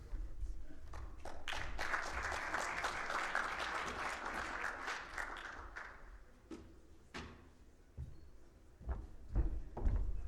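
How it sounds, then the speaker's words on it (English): Audience applause for a speaker at a sports analytics conference career session, a dense burst of clapping that swells and then thins into scattered claps and a few thuds near the end. "Thank you for the applause"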